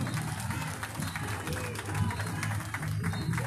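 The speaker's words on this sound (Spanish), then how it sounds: "Fuerte el aplauso para recibir a esta institución" Crowd at a town fair parade in Tetlanohcan applauds to welcome a passing school group, a faint, distant patter of clapping mixed with murmuring crowd and low hum outdoors.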